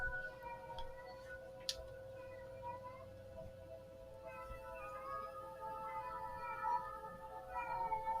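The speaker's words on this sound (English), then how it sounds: "My cat is in heat and she's actually bothering me." A cat in heat meows in drawn-out, wavering calls indoors, soft and steady against a quiet room hum, with a few faint ticks early on.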